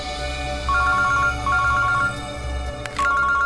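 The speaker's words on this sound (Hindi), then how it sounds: "अभिजीत का फोन है।" A telephone ringing indoors, a bright electronic ring repeating in three short bursts over a low background hum, with no talk.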